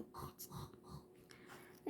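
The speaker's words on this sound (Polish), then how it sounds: "Ale ty nie chrap!" Quiet, breathy snoring with snorting, wheezy breaths repeats a few times close by.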